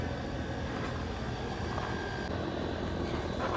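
A blower assembly's engine, rebuilt with fabricated replacement parts, runs as a loud, steady broadband drone throughout, with no clear climb in revs.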